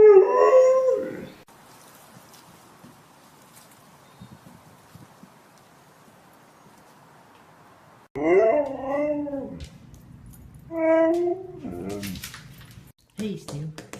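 Sleeping husky letting out a drawn-out, wavering howl-like whine, then quiet, then more short yips and whimpers close by, with a person talking softly in between.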